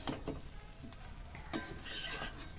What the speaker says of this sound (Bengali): মশলার সঙ্গে একটু নাড়িয়ে চাড়িয়ে নেব